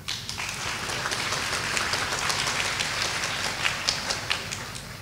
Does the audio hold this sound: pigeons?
no